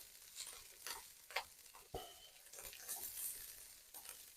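Fried rice with egg, onion and green onion sizzling and popping in a pan while being stirred, a steady crackle broken by brief scraping knocks of the utensil against the pan.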